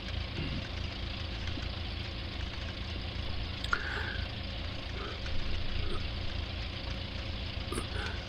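An open farm tractor's engine idles with a steady low rumble that stays at an even level, with a few faint clatters over the top.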